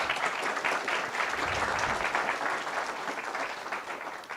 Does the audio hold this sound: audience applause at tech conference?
yes